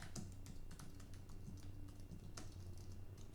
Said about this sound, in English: And literally all you would need to do here is then type in your message